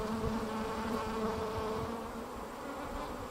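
Honey bees in an opened hive give a dense, continuous buzzing drone, close and steady, with no voices over it.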